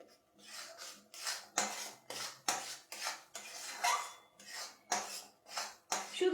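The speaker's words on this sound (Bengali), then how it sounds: "ক্রমাগত নাড়তে থাকতে হবে যাতে এটা তাড়াতাড়ি শুকিয়ে শুকিয়ে আসে।" Nolen gur sandesh mixture is stirred in a pan, giving steady rhythmic scraping and rubbing strokes of a utensil against the pan, close and fairly loud, about a dozen repeated passes with no talking.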